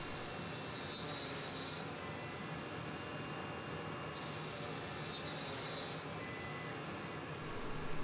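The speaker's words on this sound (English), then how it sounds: "I'm drilling the shaft holes first." A machine drilling shaft holes sends out a steady, broad whirring hiss with a faint high whine that fades in and out, continuous and fairly distant, with no talking.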